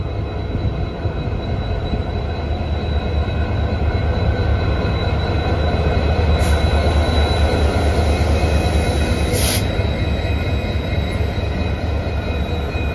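A train passes on a railway line in Karnataka, giving a loud, steady rumble of rolling wagons and wheels that lasts throughout without a break, with no voices.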